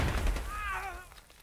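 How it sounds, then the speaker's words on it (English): Dense, rumbling battle noise from a multiplayer first-person shooter match, with booming blasts and scattered gunfire blending into a continuous loud roar, and a whistling tonal sweep rising above it midway. "Big grenade there."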